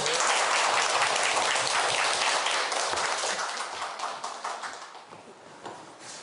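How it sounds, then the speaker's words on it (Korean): Audience applause at a university lecture on the constitution and local self-government, a dense sustained wash of clapping that stays loud and then slowly thins and fades toward the end. "박수 부탁드립니다"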